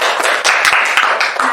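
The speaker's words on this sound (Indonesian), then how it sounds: "Iya benar, tepuk tangan untuk Ayu." A classroom of students claps hands together for a classmate, a dense burst of overlapping claps that fills the whole short moment, loud and close.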